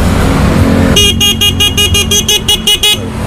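A car horn fitted to a Honda Supra Fit motorcycle blasts in nine short, loud, evenly spaced honks over a steady engine idle.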